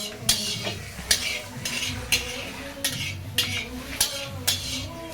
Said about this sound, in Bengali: পেঁয়াজ এখন গরম হচ্ছে।